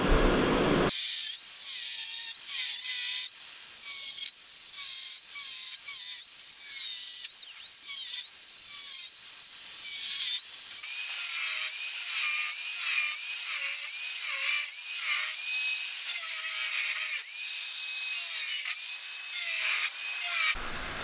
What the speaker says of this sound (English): cutting fiberglass is terrible